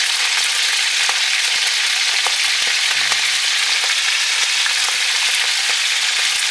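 Swallow birds fry in a hot pan with loud, continuous sizzling and scattered oil crackles and pops, close up and with no voices.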